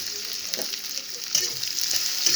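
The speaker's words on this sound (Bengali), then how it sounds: "আমি চুলায় তেল দিয়ে দিয়েছি, এলাচি দারচিনি দিয়ে দিয়েছি। এবার দিয়ে দেবো পেঁয়াজ কুচি।" Chopped onion fries in hot oil with cardamom and cinnamon, a close, continuous sizzle that swells louder partway through, with occasional stirring scrapes.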